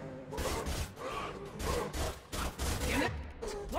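Rapid bursts of gunfire in the Mass Effect 2 video game, several close, loud volleys in quick succession with brief gaps between them.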